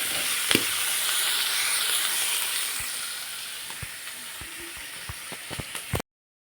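Vegetables and spices fry in a pan for cabbage manchurian, hissing loudly up close. The sizzle gradually eases while sharp clicks of stirring tap through the second half before it cuts off.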